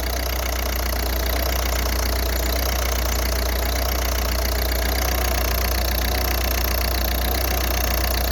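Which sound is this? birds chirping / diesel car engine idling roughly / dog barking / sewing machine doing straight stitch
diesel car engine idling roughly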